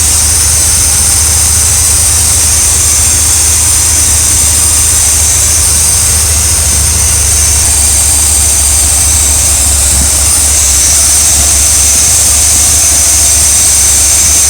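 RV engine idling while warming up, a loud steady drone with a low rumble and a high whine holding constant throughout, no talk.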